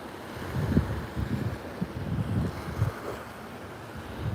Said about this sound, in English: And above me, I can hear a plane rumbling.